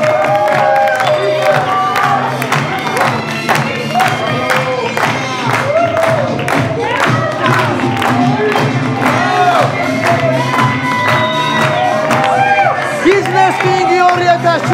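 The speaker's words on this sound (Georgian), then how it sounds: "ოვაციები, უფრო მეტი" Sustained, loud applause and cheering fill the hall as an audience hails the Mister Business King 2017 award winner. Excited shouts and whoops ride over dense clapping, and voices speak throughout.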